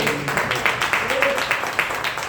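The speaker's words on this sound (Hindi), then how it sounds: "एक जोरदार तालियां होना चाहिए।" Audience applause at a Hindi-hosted gathering: dense, steady clapping from a crowd, fairly loud and continuous for a couple of seconds, with a voice faintly heard underneath.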